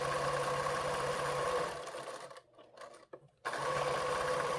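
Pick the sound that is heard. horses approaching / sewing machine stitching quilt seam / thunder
sewing machine stitching quilt seam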